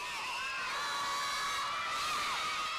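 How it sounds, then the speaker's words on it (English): Schoolchildren at an elementary school in Southeast Louisiana cheer for the Saints, a continuous crowd of high-pitched shouts and whoops that stays moderately distant and fairly quiet without a break. "Children all across Southeast Louisiana are cheering loudly for their"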